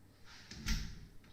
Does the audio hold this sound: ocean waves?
no